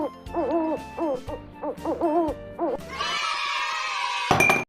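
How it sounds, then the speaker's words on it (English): An owl hooting, a series of short, tonal hoots in quick groups, followed by a brighter sustained call, with simple background music underneath. "Owl makes a hoot hoot sound."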